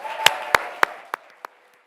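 A handful of sharp, evenly spaced claps at an event honouring Fran Pavley, about five in a row, that thin out and fade quickly instead of swelling into full applause.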